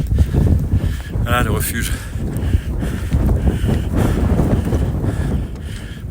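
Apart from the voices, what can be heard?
cold wind on a mountain trail, Réunion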